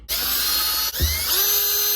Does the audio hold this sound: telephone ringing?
no